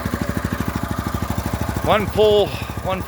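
A small pull-start motor putters in a quick, steady rhythm of pulses at an outdoor off-grid site, then a voice talks over the running engine near the end.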